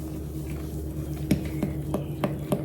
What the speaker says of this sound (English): We need to add some sugar. Go ahead and stir that in.